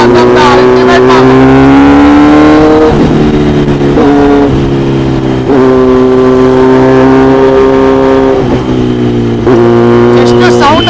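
A Kawasaki Z900 motorcycle engine revs repeatedly up close, loud throaty blips rising and falling in pitch over a steady idle, with someone talking over it.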